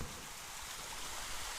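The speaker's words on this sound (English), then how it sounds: "from that first pool, you can see the water is trickling from it" Water trickles from a natural pool down toward a second pool in St Lucia, a steady, soft, even wash of flow with no voices.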